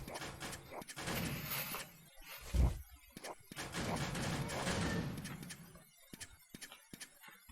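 Disc bullets fire rapidly in the Adventure Builder video game, a dense stream of clattering, thumping shots punctuated by one heavier impact. The bursts then thin out into scattered individual hits near the end.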